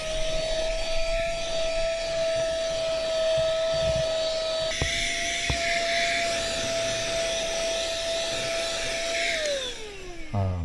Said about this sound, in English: Saya vacuum guna car vacuum cleaner.